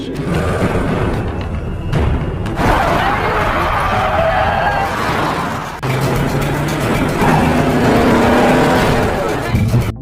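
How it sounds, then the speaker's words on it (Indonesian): A film car chase with engines roaring and revving loudly and continuously, brief cuts and tire noise between stretches, mixed with music and some voices. "Tanpa banyak bacot, John langsung mengejar mobil Bram."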